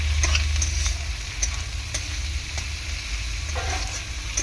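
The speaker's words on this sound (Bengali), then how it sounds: "যখনই আমি এই যে ভাজবো চিংড়ি মাছটা, তখন একটু হলুদ গুঁড়ো দিয়ে দেবো" Shrimp frying in a pan with turmeric powder give off a steady, close crackling sizzle with light stirring clatter and scattered sharp pops throughout.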